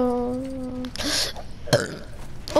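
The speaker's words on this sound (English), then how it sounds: "Why do you keep burping in every video?" A person burping during a Star Wars The Force Awakens game session: a low, drawn-out belch with steady tonal pitch, followed by scattered short vocal bursts and game noises.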